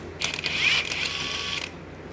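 A cheap Walmart electric high-torque impact wrench hammering at a Honda crank bolt, a loud, close, rattling mechanical burst lasting about one and a half seconds, then stopping abruptly.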